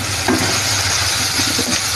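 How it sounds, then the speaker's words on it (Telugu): Drumstick pieces dropped into a pan of frying tomato pieces for a drumstick tomato masala curry, a loud continuous sizzle and hiss with faint stirring scrapes, no voices. "అందులో మనం ములక్కాయ ముక్కలు కూడా వేసేద్దాం."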